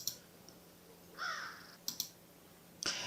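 A crow caws once in a drawn-out, faint call, followed by a couple of sharp clicks and a short, bright burst near the end, with nothing else heard.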